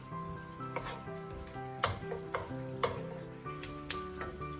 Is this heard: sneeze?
no